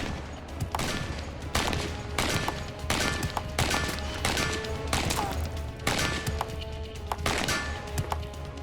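An automatic rifle with an intermediate cartridge fires during a weapons test, dumping a full magazine of suppressive fire. Loud shots or short bursts repeat at roughly one-second intervals over a steady background.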